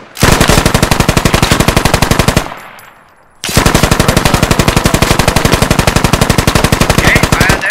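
An M240B machine gun in the Squad video game rips out long, loud, rapid bursts of automatic fire, a steady drumming rattle that breaks off briefly with a fading echo before another sustained burst.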